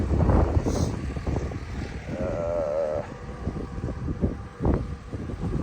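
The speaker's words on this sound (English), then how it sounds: "the wind's still blowing extremely hard" Strong wind blows hard outdoors around a collapsed hog barn, a loud continuous roaring rush with buffeting gusts against the microphone that rise and fall throughout.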